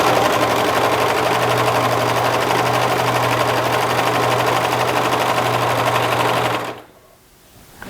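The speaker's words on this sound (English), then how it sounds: "On the cover stitch, you have to sew from the right side of the garment" Cover stitch machine sewing the hem of a knit T-shirt, a loud, fast, continuous mechanical whir with steady rapid needle clatter lasting several seconds, then stopping abruptly.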